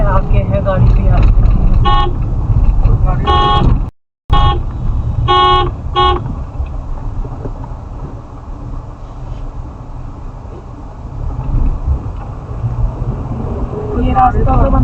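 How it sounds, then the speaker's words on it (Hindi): A car honks on a winding forest road during a night drive near Jim Corbett, with several short horn toots in quick succession over engine and road rumble, while people talk in the vehicle. "बस ये है कि कोई गाड़ी आ रही है ना, आ रही है।"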